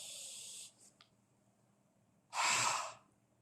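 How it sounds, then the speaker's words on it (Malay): Breath is drawn and released during a strength exercise in an executive fitness course, with an airy exhale, a pause and then one deep, loud inhalation close to the microphone. "saya akan sedut nafas dulu"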